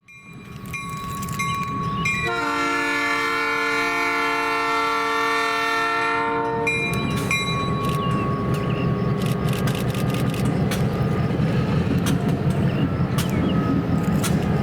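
A freight train rumbles past at close range in an industrial valley in Cleveland, loud and steady, with a long blaring horn sounding for several seconds near the start.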